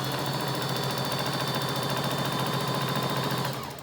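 A sewing machine runs a seam on a fabric face mask with a filter pocket and elastic, giving a loud, steady rapid chatter of stitching that continues unbroken, then slows and stops at the end.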